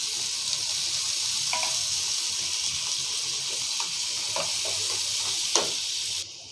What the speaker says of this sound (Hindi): तब तक इधर प्याज भून रहे